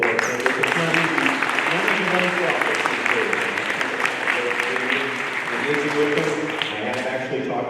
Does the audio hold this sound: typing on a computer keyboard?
no